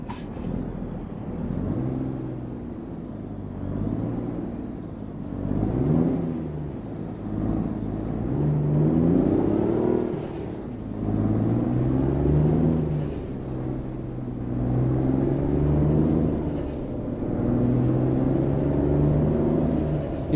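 In Euro Truck Simulator 2, a truck's engine gives a continuous low rumble that rises and falls with throttle changes, while several short hissing bursts from the air brakes cut through it. No one speaks.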